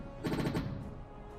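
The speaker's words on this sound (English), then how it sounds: "It immediately enters the battle, firing at enemy positions." A brief, rapid burst of automatic gunfire, several quick shots in a tight rhythm, echoing at a moderate distance.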